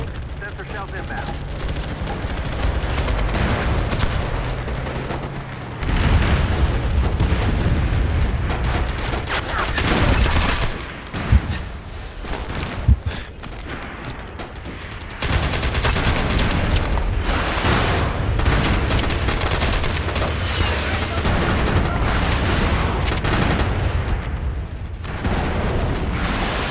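Incoming sniper shells and gunfire in a video game: heavy, continuous barrages of booms and shots, with brief lulls and sharp bursts, loud and close, and a voice speaking now and then over the din.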